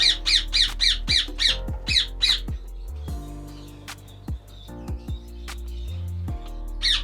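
A breeder pair of ring-necked parakeets sits inside a breeding box and lets out a rapid run of harsh, close squawks. Scattered clicks and knocks follow, then a final burst of squawking near the end.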